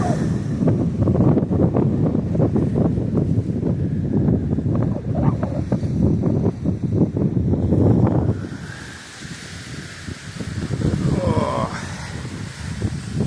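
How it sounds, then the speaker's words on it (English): Strong wind blows across the mic on the Minnesota Point shoreline of a beach park, a loud continuous roar with gusts. It eases for a moment, then picks up again, and waves are faint underneath. "Man, that wind."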